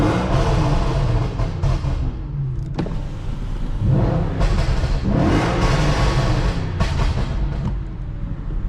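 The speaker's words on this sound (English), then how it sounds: "Then we put it in neutral" A straight-piped Audi RS4 B8 engine revs repeatedly while stationary in neutral, rising and falling in loud surges with brief dips between, close by and with no talking.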